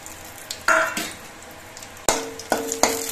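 Bay leaves, cardamom pods and cloves dropped into hot ghee give a few sharp bursts of sizzling and crackling, each flaring up loud and fading quickly, with light stirring scrapes in a pan.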